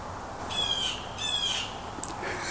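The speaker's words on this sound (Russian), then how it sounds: "Какая интересная птица" A bird gives two drawn-out, high-pitched calls in quick succession, moderately close, over a steady background hiss, followed by a brief sharp click; no talking.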